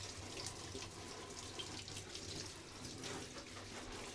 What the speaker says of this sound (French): Je douche vraiment, vraiment tout le monde de partout, les tiges, partout.